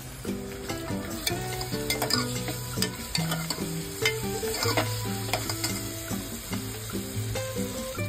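Mutton sizzles steadily in a pan with ginger-garlic paste and turmeric, with scraping stir sounds and light clinks, over a background of music with no talking.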